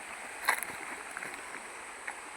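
The upper Julau River runs clear over a rocky bed, making a steady, soft rushing flow with faint gurgles and a brief splash near the start.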